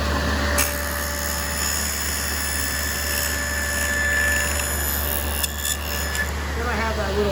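A table saw fitted with a dado head runs steadily through wood, cutting a rabbet on a garden bench part, a loud continuous whine with a brief change in pitch near the end.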